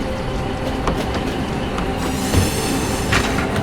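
A train rolls along in the video game Foxhole, a steady dense rumble with faint wheel clicks and a metallic squeal rising near the end, loud and continuous with no talk.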